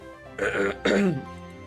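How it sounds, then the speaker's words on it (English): Someone clears their throat twice in quick succession, close and fairly loud, with no talking. "I have been clearing my throat all day long"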